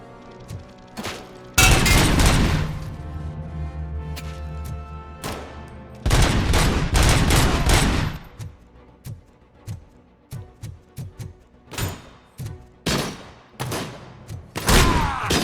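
Shotgun blasts boom close and loud in RoboCop: Rogue City, a few heavy shots with lingering rumble, then a run of sharper, quieter gunshots popping at an uneven pace.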